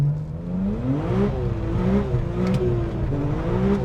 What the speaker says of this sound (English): E46 supercharged speed test.